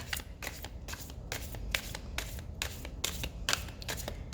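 A deck of cards is shuffled close by, a quick run of crisp riffling bursts in a steady rhythm, fairly quiet, with no talking.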